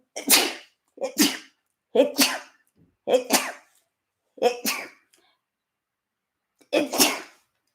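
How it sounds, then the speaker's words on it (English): Six sharp sneezes in a row, close and loud, each a quick explosive burst separated by brief pauses, the last after a longer gap. "nobody on my lives has ever seen me sneeze. That is how I sneeze."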